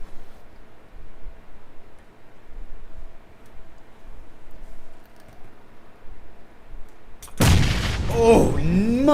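A grenade goes off in a competitive online shooter match, a sudden loud burst late in the clip that rings on and decays over low background game noise and muffled commentary.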